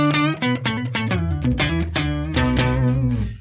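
Electric guitar playing through an octave pedal, a melodic line with a thick doubled octave tone, sustained notes ringing bright and full, with no voices.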